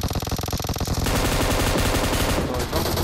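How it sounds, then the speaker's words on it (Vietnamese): Loud, close automatic gunfire in the PUBG Mobile video game, rapid bursts that merge into a dense continuous roar of shots, with no talk over it. "Sau lưng bắn đấy."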